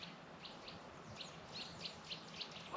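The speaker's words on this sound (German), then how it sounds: "die Ruhe, das Vogelgezwitscher" Birds chirp in the Soonwald forest with short, faint repeated calls over a quiet background hiss.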